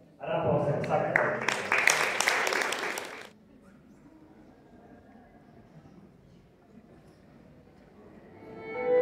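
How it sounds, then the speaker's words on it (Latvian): Applause from a concert audience at a Ukrainian evening in the Lielais Dzintars concert hall in Liepāja, Latvia: a dense, loud burst of clapping for about three seconds that stops abruptly, leaving quiet room tone with a slight rise at the end. "Ar aplausiem sakatāt!"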